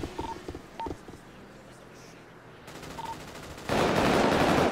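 Gunfire in the video game GTA roleplay: short electronic beeps and scattered pops early, then a sudden loud, sustained burst of rapid shooting in the final second.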